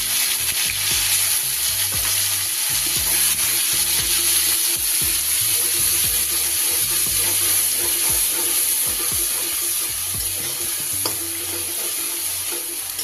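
Ginger and green chilli paste frying in hot oil with a little turmeric, a steady loud sizzle with stirring scrapes throughout.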